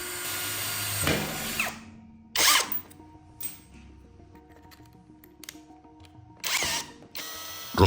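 Power drill boring holes to fix parts to the metal frame of an electric-motor generator build, several loud whirring bursts separated by quiet gaps, close by.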